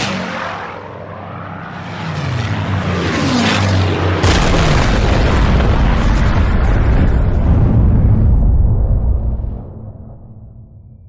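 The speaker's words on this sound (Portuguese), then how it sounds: "Quando a primeira bomba caiu, não houve tempo para fugir. A explosão atingiu um ajuntamento de crianças" A bomb explosion sound effect for a documentary on the bombing of Buenos Aires: a rising roar swells into a loud, sudden blast that rumbles on heavily for several seconds before cutting off.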